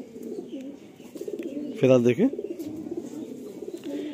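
A male Madrasi pigeon at a loft sale in Sonarpur lets out one loud, close, rolling coo in the middle, set against lower background cooing and someone speaking briefly.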